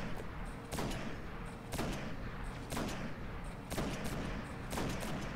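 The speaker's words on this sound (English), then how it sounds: "Get a few last minute sniper shots in." Sniper rifle shots during a boss fight in the Destiny video game, five evenly spaced sharp cracks about a second apart over a rumbling game background, fairly faint and without talk.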